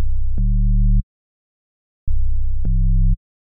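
Two pairs of clean sub bass notes from Ableton Operator with glide off, each low note jumping instantly to a higher one with a slight click, separated by a second of silence; loud and alone.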